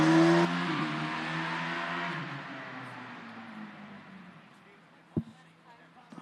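A TU Munich H17 combustion Formula Student race car accelerating at a Formula Student Germany acceleration event, its loud engine note rising then fading into the distance, followed by a sharp knock near the end.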